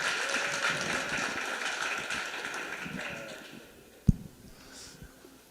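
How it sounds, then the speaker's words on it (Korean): An audience applauds at a Korean church rally, steady clapping from a crowd that fades gradually, followed by a single sharp knock. "예, 박수하겠습니다."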